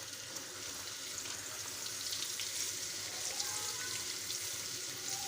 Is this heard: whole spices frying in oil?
yes